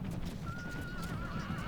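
Horses whinny in the Rome Total War battle game, a single thin drawn-out neigh over a busy din of battle noise and hoofbeats.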